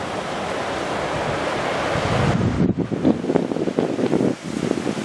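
Ocean waves break and wash ashore at sunset in Jamesville, Virginia, a broad rushing surf close by with gusty wind buffeting the microphone and swells rising toward the end.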